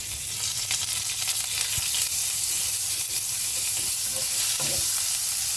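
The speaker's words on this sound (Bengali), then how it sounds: "আদাটা একটু ভাজা ভাজা হয়ে আসুক" Ginger fries in a pan for a mung dal shukto, a loud, steady, close sizzle with occasional spoon clicks as it is stirred, no voices.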